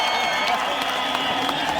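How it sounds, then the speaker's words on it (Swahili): Crowd at a Kenyan political rally in Tharaka Nithi applauding and cheering for the deputy president, a steady wash of clapping and voices filling the moment without pause. "Wapi makofi ya deputy president wa Republic of Kenya?"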